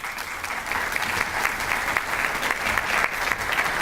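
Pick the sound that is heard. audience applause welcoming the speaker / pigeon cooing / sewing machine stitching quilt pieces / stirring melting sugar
audience applause welcoming the speaker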